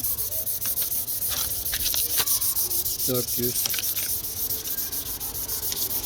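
Steady dry abrasive rasping of 320 to 500 grit sandpaper rubbing on a hard plastic car headlight lens, continuous and close, with one brief spoken word midway.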